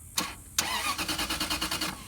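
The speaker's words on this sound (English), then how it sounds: "as you can hear, the car tries to crank" A Range Rover HSE starter cranks in a steady rapid rhythm of about a dozen even pulses after two sharp clicks, loud and close, with no engine catching.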